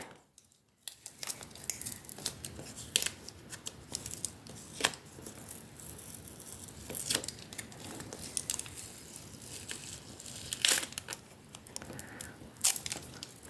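Crinkling plastic packaging of washi tape is pulled and torn open up close, a busy stream of rustles, crackles and sharp snaps throughout.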